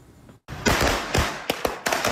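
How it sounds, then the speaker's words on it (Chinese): Firecrackers going off outside a lottery shop in Kaohsiung after a jackpot win, a run of loud crackling bursts with short gaps between them, close by. "彩券行门口鞭炮声响起"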